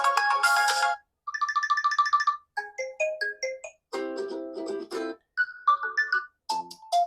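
A Tecno Spark 40 smartphone plays its ringtone through dual speakers, a bright electronic melody of short phrases broken by brief pauses, loud and clear with no talk.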